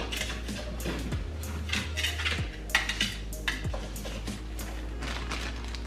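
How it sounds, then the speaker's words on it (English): A butter knife scrapes frozen ginger garlic paste in a series of gritty metallic scrapes and light clinks against a hard surface, close and fairly steady with short pauses, over a constant low hum. "you can use a butter knife to scrape off"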